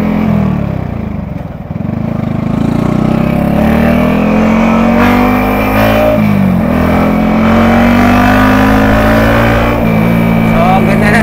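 A car engine pulls hard under acceleration while driving, a steady loud drone with rising pitch sweeps, easing briefly before climbing again, and someone talks over it.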